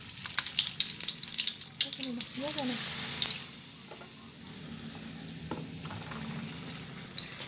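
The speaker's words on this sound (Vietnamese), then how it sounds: "Mình chiên 2 lần nha các bạn, mình chiên 2 lần cái phần hủ qua mình nó sẽ rất là giòn ha." Oil sizzles and crackles steadily as bitter melon deep-fries, loudest in the first few seconds, with some clinking and a softer frying hiss afterward.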